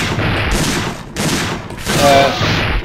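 Gunfire in the video game Dino Crisis 2, three loud, dense bursts of shots in quick succession with brief gaps between them, filling the whole short stretch.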